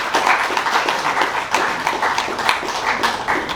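A crowd claps steadily at an FFA banquet, dense and continuous applause with sharp individual slaps, fairly close, no talking over it.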